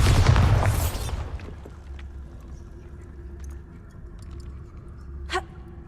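A Bombarda spell blast in Hogwarts Legacy opens with a loud, broad explosive burst in the first second, then a rumbling low tail that settles into quieter ambience, with a brief sharp pop near the end.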